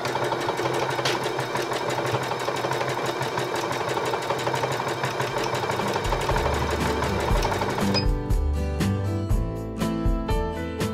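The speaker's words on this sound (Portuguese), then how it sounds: "Ver como é o ponto que eu desejo para fazer o ponto decorativo na minha máquina" A domestic sewing machine runs steadily, stitching a decorative stitch on a cotton baby burp cloth, its close mechanical whir continuous until it changes rhythm near the end, with no talking.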